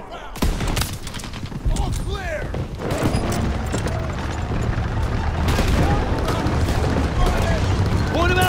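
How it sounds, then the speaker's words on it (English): Call of Duty WW2 Battle of the Bulge combat with heavy booming mortar and artillery impacts amid sustained rattling gunfire, loud and chaotic, with a voice speaking through the din. "Was a mortar fire ready, right?"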